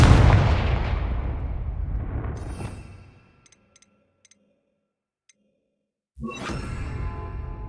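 A Confringo fire spell blast in the Hogwarts Legacy game lands as a loud booming burst that rumbles and fades into near silence with a few faint ticks, then a second heavy blast erupts abruptly near the end.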